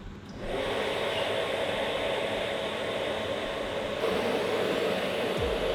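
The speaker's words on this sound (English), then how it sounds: "Fuel pump." An electric fuel pump primes on a carbureted 347ci Ford Maverick in a dyno cell, switching on with a steady, close whooshing whir that holds evenly throughout.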